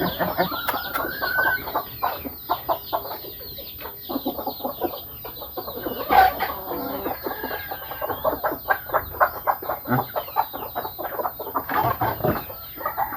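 Chickens cluck densely and close by in a farmyard, with a steady run of short repeated clucks and a few louder calls rising above the flock.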